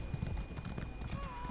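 Horse hooves clip-clop at a steady gallop in Elder Scrolls Online, a quick rhythmic patter under a voice and background game sounds.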